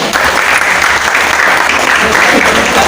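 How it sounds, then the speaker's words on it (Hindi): Loud, dense applause from a crowd at an organisational executive meeting, steady clapping filling the whole stretch with no talk over it. "उनके लिए जोरदार तालियां बजाएं।"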